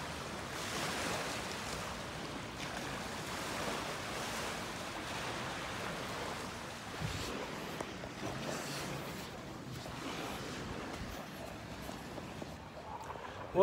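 Steady wash of surf on an empty beach in London, a constant broadband rush with some wind buffeting the microphone and a faint voice near the end.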